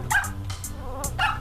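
The undo dog in Super Mario Maker barks in short, bright, cartoonish yips, about three quick bursts in a second and a half, loud and up front over game music.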